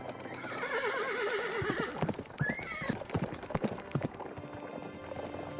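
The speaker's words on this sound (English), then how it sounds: "Veer rode his horse, Agni," A horse gallops with rapid clip-clopping hooves while loud neighs and whinnies ring out, a dramatic sound effect with no voices.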